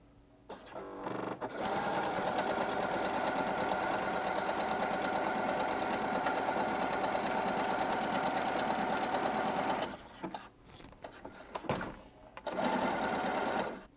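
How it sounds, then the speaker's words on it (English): A sewing machine runs in a steady, close mechanical whir while stitching a zigzag pattern on parachute fabric, starting after a brief pause, then stopping and restarting in short bursts near the end. "If your sewing machine has a zigzag pattern, use that."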